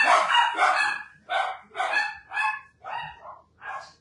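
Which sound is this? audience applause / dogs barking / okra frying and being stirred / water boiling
dogs barking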